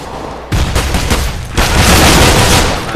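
Grenade blast in a CS:GO match, a loud broadband burst at about half a second followed by sustained rumbling gunfire and a second loud surge of explosive noise, dense and close with no clear talk.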